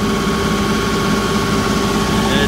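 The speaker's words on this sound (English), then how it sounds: "My tractor now wants to burn off the soot" A tractor engine runs steadily during a diesel soot burn-off regeneration, a loud even idle-like drone with a constant low hum and no talking.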